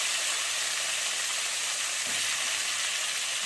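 Green tomatoes being stirred and cooked in oil in a pan, giving a steady, loud sizzling hiss that runs unbroken with no talk.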